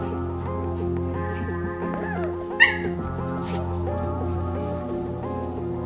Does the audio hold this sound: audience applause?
no